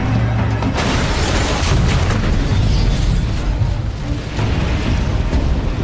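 Massive explosion of a tanker truck rammed by a vehicle, a loud sustained roaring blast with repeated booming bursts and rumbling debris throughout, no voices.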